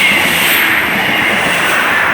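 A class 159 diesel train rolls past the Crewkerne level crossing in Somerset, a loud, steady close-up rumble with a rhythmic clatter of wheels over the rails throughout.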